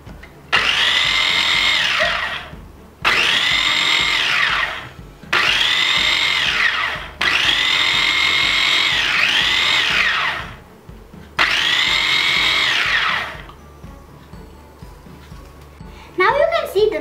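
An electric chopper whirs as it blends mayonnaise, running in five loud, high-pitched bursts of a few seconds each, separated by short pauses, before quieter handling sounds at the end.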